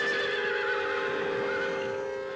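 A Lipizzan stallion in the 1963 film Miracle of the White Stallions gives a single sustained neigh, a loud, wavering whinny that carries on for over two seconds and slowly fades.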